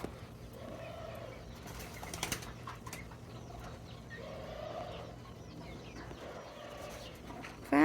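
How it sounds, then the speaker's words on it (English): Pigeons and doves coo softly in repeated low phrases at a bird enclosure, with faint rustling and flapping between calls and a sharp chirp at the very end. "pigeons, doves."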